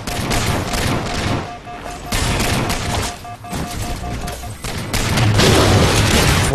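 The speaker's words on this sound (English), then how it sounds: "Why would you throw a frag at close fucking range, you prick?" A frag grenade blast during close-range Halo 4 Infinity Slayer combat, heavy booms and crashing bursts mixed with scattered gunfire across several seconds, loud throughout.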